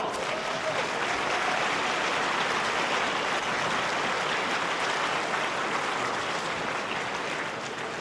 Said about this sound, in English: please give them an extra warm round of applause